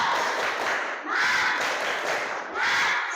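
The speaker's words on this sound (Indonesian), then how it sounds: "Tepuk semangat." A classroom group performs the rhythmic tepuk semangat clapping chant, with repeated bursts of dense clapping and voices separated by brief pauses, loud and close.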